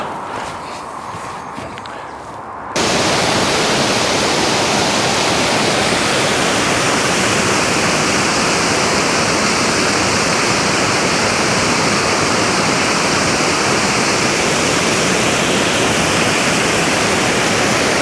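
Steady loud rush of the Gore Water river in Gore Glen, Scotland, fills the scene after a brief quieter opening, constant and close.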